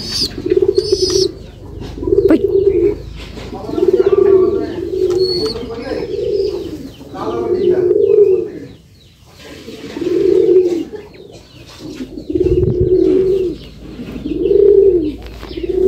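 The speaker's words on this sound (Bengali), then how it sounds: "ঘুঘু, এই যে আমাদের অস্ট্রেলিয়ান ঘুঘু" Australian doves coo in a steady, repeating rhythm, soft low calls recurring every couple of seconds close by, with occasional faint chirps from other birds.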